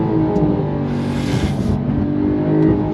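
A 2022 Porsche 911 GTS engine pulls hard on throttle under boost, a loud, close, rising engine note with steady harmonic drone and a brief surge of hiss midway.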